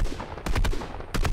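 Gunfire in Fortnite, two bursts of sharp, loud, close shots in quick rhythm separated by a short pause, heard alone.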